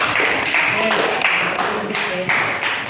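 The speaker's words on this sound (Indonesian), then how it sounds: "Tepuk tangan dulu untuk kelompok 1" A classroom group claps for the first group after its presentation in a lesson, with dense, steady applause running close and loud through the whole moment.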